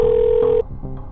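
A telephone being dialed to place a call: a steady electronic tone holds for just over half a second, then gives way to softer tonal beeps, all close and clear with no talking.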